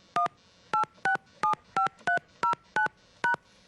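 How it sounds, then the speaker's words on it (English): Nine short, evenly spaced telephone keypad beeps ring out as a voicemail PIN is entered, each a clear dual-tone press, loud and close with no speech. "Please enter your PIN, then press the pound key."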